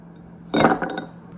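A large ice cube drops into a cocktail glass holding a charcoal-blackened drink, giving a single sharp clink and a brief rattle before the ringing fades.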